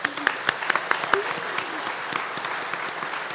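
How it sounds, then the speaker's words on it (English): Applause from the audience at a business school commencement ceremony, with loud individual claps standing out in front of a steady crowd clapping, while a voice is faintly heard briefly under it. "So let's give them a round of applause."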